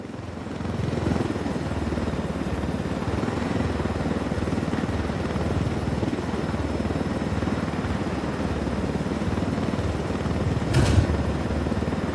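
A helicopter in the video game Ghost Recon Wildlands flies overhead with a steady, loud rotor thrum and whine, a brief sharp burst near the end.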